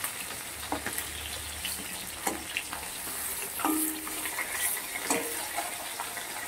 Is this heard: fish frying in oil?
yes